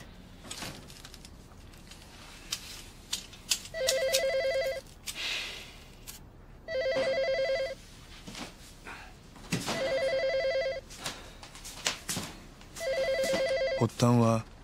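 A telephone rings in a home, four evenly spaced electronic ring bursts, each about a second long with quiet gaps between, loud and close, ending with a brief clunk.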